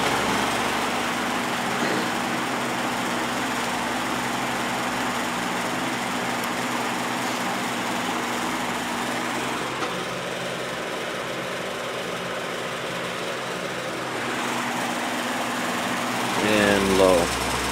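Vintage Patton electric fan running on medium speed, a steady, fairly quiet motor hum with broadband airy whoosh and faint vibration, continuous throughout with a brief rattle near the end.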